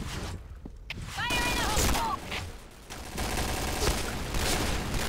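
Bursts of gunfire in the shooter game Piercing Blow crackle in rapid, uneven volleys, with a few sharper shots and game sound effects, while a player talks over the action.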